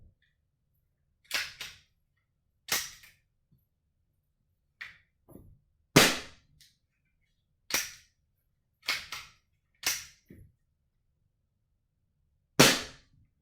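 An Umarex Glock 17 Gen 4 CO2 BB pistol fires eight sharp pops at irregular intervals, each crack followed by a quick metallic clack of slide blowback, in otherwise quiet surroundings.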